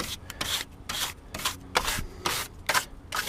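A wire brush scrubs crud off a part from a 2000 Dodge Dakota 4.7 engine, with rhythmic, close, bristly rasping strokes repeating about every half second.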